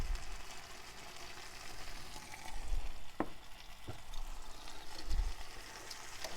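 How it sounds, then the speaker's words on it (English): Food frying in a pan at a campsite and getting stirred: a steady low sizzle with a few sharp scrapes of the utensil, close by, no voices. "Give it a stir through."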